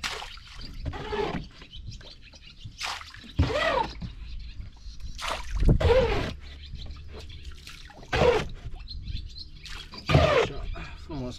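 Water bailed from a wooden boat with a hand scoop in the Danube Delta, a series of irregular splashes and pours repeating every couple of seconds, close by, with outdoor background.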